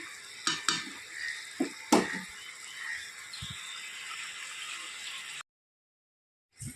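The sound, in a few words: pot of fish curry being taken off the stove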